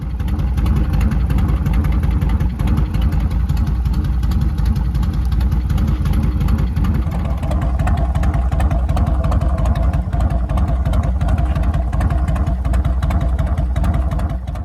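A motorcycle engine drones steadily throughout a ride, loud and continuous with a low rumble and wind-like hiss, no voices.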